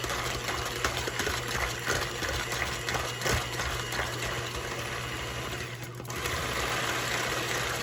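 An electric mixer whips egg whites for a soufflé, a steady, fairly quiet motor whir with bowl-scraping texture running throughout and a slight dip before it carries on.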